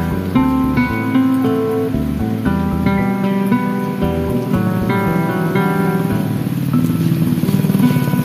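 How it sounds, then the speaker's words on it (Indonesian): Heavy rain pours over a countryside village, a steady wash of hiss beneath louder melodic music that plays throughout. "Hujan."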